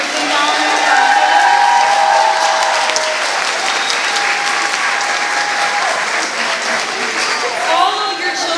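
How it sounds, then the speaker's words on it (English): Loud, sustained audience applause for an elementary children's chorus at an all-county chorus concert, dense clapping filling the whole stretch with a murmur of crowd voices and faint cheers mixed in. "Let's give them one more wonderful round of applause for St."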